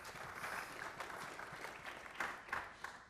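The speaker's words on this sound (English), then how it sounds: "Let's give LifePod a round of applause for that." An audience at a healthcare summit applauds its sponsor LifePod, a faint, dense patter of many hands clapping, slightly uneven with a few sharper claps near the end.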